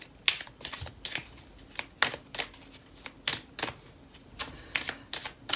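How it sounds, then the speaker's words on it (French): Tarot cards shuffled and laid down on a table, a run of crisp, papery riffles and slaps in irregular bursts, close and clear with no talking. "On va aller poser d'autres cartes pour en savoir plus."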